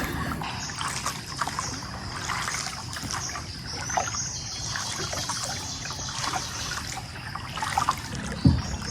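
A small river trickles and gurgles over shallow stones nearby, a steady watery babble with splashy bursts and a sharper splash near the end, no voices.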